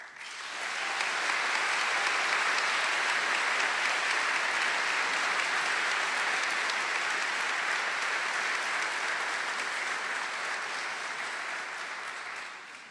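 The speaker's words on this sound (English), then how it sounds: "give all of our graduating students a round of applause" A large crowd at a nursing school hooding ceremony gives a sustained round of applause for graduating students, swelling in quickly and holding a dense, even roar of clapping for over ten seconds before easing slightly.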